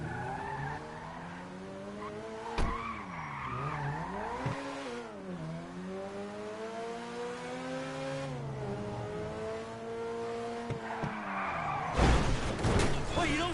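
A car in a video game drives hard, its engine pitch rising and falling as the tires squeal and skid at length, with a loud crash-like burst near the end and voices talking over parts of it.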